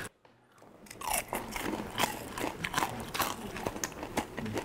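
Crunchy fried meatball being chewed at a Wangfujing street food stall in Beijing, giving a steady run of loud, close crisp crunches and bites throughout with no talk.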